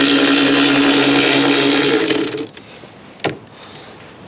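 A power driver whirs continuously for about two seconds as it undoes 8mm bolts on a Land Rover Defender rear door window regulator, then stops, followed by a short metallic clunk.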